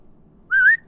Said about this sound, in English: I whistle